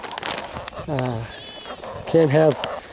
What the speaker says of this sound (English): quiet the very loud goats, because they are very loud